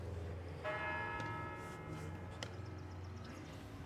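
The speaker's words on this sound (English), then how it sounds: "We'll wait for the bells." A church bell rings out with a sustained, shimmering tone, followed by softer repeated strikes fading under faint background noise.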